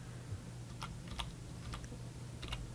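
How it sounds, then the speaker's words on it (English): Computer keyboard arrow keys pressed while nudging an image in Photoshop, a handful of faint, sharp clicks spaced irregularly over a quiet background hum. "I'm just going to use the arrow keys on the keyboard, which just one click up shifts it around"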